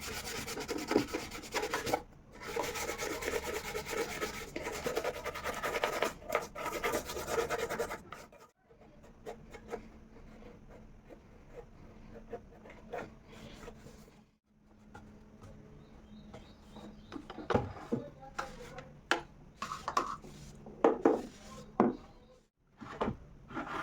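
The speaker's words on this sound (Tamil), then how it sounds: "கொஞ்சம் இந்த மாதிரி பிரஷ் யூஸ் பண்ணி இந்த மாதிரி கிளீன் பண்ணிக்கினேன்" A brush scrubs paste over a mixie grinder during household cleaning, producing continuous close rubbing and scraping strokes, dense at first and then lighter and more scattered, with no speech.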